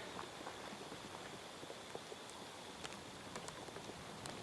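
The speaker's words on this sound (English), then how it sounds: "still raining." Steady rain falling outdoors on a field archery course among dense brush, a constant soft hiss with scattered droplet taps, fairly faint and even throughout with no talking.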